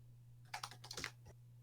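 Short burst of typing on a computer keyboard, about a dozen quick uneven keystrokes heard close and fairly quiet over a steady low hum, with no talking.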